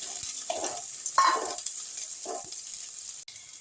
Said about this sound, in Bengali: পেঁয়াজটা একটু আমি নাড়াচাড়া করে নিচ্ছি।